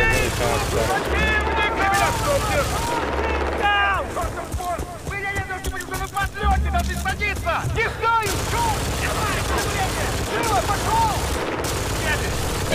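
In Battlefield Bad Company 2, an attack helicopter fires on a player, with bursts of machine-gun fire and explosive blasts over a thudding rotor, loud and chaotic, with game voices shouting in between.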